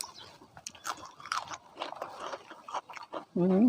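Close, crunchy chewing of spicy papaya salad eaten with dry-roasted shrimp and fresh vegetables, made up of quiet irregular bites and crunches, with a short voice at the end.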